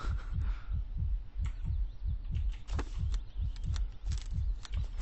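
The player's heartbeat in the survival game Miasmata pulses as a steady, close, low double thump roughly twice a second, repeating evenly throughout, with faint ambient game sounds around it and no voices.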